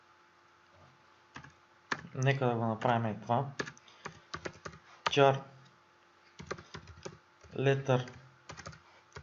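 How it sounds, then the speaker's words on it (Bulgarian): Typing on a computer keyboard, with scattered quick key clicks spread through the stretch under and between a man's speech. "в момента, в който натиснете право на вашата клавиатура Z,"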